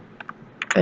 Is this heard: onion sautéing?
no